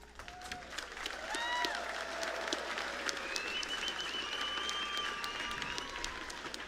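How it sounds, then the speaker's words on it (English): A large crowd at the 2025 Pacific Mini Games closing ceremony in Palau applauds steadily, a continuous patter of clapping with a few whistles and cheers rising over it. "let's honor them with a heartfelt round of applause."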